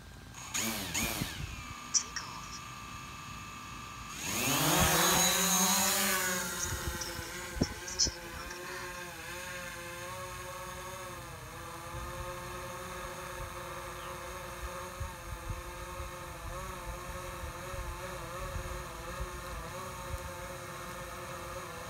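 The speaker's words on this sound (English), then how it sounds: "we're going to go ahead and arm the Mavic Pro and put it up at 25 feet" A DJI Mavic Pro drone arms and lifts off, its rotors rising into a loud whirring whine that settles into a steady, fainter hover hum at about 25 feet, heard from nearby on the ground.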